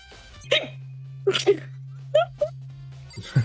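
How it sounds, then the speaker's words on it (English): Sharp, violent hiccups from a person, four or five abrupt vocal jerks spaced irregularly over a few seconds, close and loud above a steady low electrical hum. "I have hiccups."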